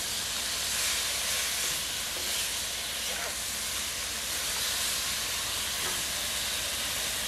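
Garlic sizzles in hot oil in a pan while cooking pork and vegetable rice, a dense, steady frying hiss filling the whole stretch, close and loud, with a voice speaking faintly under it.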